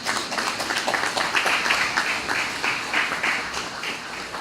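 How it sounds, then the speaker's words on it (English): A room full of people applauds Minister Vincent Byron at the reopening of the National ICT Centre, with steady, dense clapping lasting throughout at a moderate distance. "I ask that we give him a round of applause"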